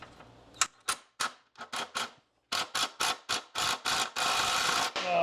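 Wrench turning the nut on a Cub Cadet mower blade hub, a rapid series of sharp ratcheting clicks in quick bursts, some closely spaced, near and fairly crisp without talk.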